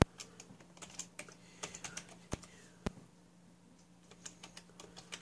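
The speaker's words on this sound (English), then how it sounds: "I am actually typing" Quiet, irregular keystrokes on a computer keyboard with a few sharper, louder clicks, typed at a nearby desk during Wi-Fi setup of a Netgear WNCE2001 adapter, with a faint steady hum beneath.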